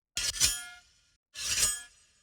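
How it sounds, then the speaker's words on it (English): Two harsh, bright metallic shovel scrapes, each about a second long with a sharp onset and fading tail, separated by a brief silence. "This is a shovel scrape,"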